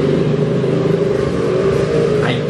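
A vehicle rumbles past on a nearby road, a loud, continuous engine drone with a low roar that stays steady for a couple of seconds, while a faint voice briefly rises near the end.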